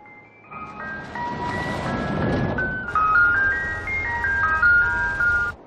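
A tinny electronic ice cream truck jingle from the film Legion (2010) plays a bright, looping melody, fairly loud and steady over a low rumbling background.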